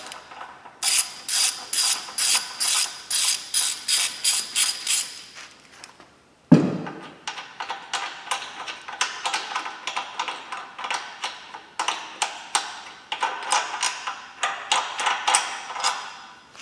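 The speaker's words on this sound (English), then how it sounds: "now what we need to do is remove the two outside bolts, and we're going to be using a 15mm socket for that." A ratchet with a 15mm socket backs out bolts during a Barton Hybrid 3 mount install, giving quick, crisp, close clicking in steady runs, with a single heavy thunk midway.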